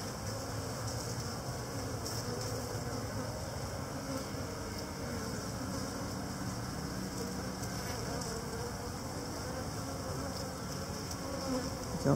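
Honey bees drone in a dense, continuous buzz, close and steady throughout, while a beekeeper inspects a hive frame of capped honey cells.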